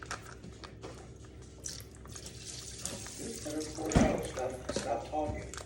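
Thawed breast milk pours steadily out of a storage bag into a container, a soft trickling, splashing stream that grows louder toward the end, with people talking over it.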